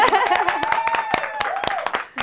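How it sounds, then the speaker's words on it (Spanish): A few people clap sharply and irregularly while a voice talks or cheers over the applause. "vamos a darle un aplauso bien fuerte a Noemi."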